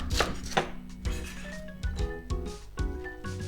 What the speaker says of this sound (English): I'm gonna cut it through a little in the middle, like this.